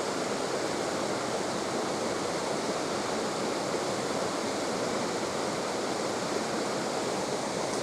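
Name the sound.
waterfall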